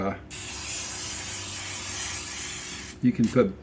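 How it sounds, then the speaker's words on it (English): A long continuous hiss of butter spray from an aerosol can at close range, coating pastry pies for the air fryer, lasts almost three seconds, then a brief burst of speech follows. "I'm going to spray the outside of these with butter spray."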